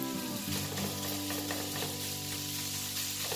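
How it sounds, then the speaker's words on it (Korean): Kimchi fried rice stir-fried over maximum heat crackles with a loud continuous sizzle, with a steady hum and stirring noises underneath, close up and without voices. "불을 최대치로 올려주고 거의 마지막 작업 계속 볶아줍니다."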